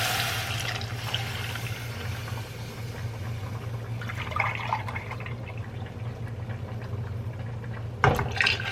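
Milk, four and a half cups, pours into a pot of creamy vegetable soup in a farmhouse kitchen, a steady liquid stream with a low hum underneath and a brief clatter near the end.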